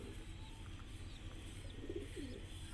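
Silver kasni high flyer pigeon cooing softly in a few low, rolling bursts over steady background noise, with faint chirps nearby.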